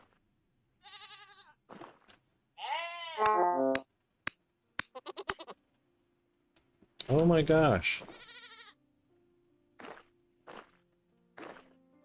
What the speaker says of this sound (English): Alright, so mountain goat.